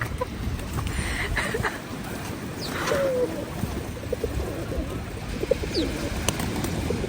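Soft pigeon coos rise and fall over a busy outdoor background, with a few scattered chirps from sparrows nearby.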